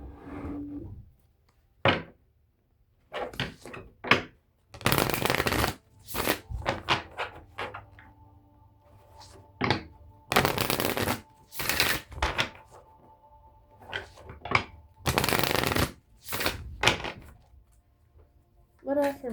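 Affirmation cards shuffled and handled, heard as a series of crisp flicking bursts and soft knocks, with quiet pauses between them.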